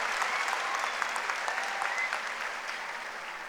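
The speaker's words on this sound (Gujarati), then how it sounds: "તાળીઓથી આપણે યુનિવર્સિટીથી ખૂબ ખૂબ સ્વાગત કરીએ." A university audience in Bhavnagar claps to welcome a guest speaker, with dense, even applause at moderate loudness that eases off slightly toward the end.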